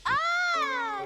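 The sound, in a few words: cat meowing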